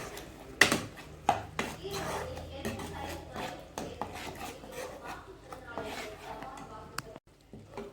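Salted masala for an onion egg gravy being stirred in a pan, giving soft scraping and rubbing with a few sharp utensil knocks against the metal, close by and moderately quiet, with a voice talking over part of it.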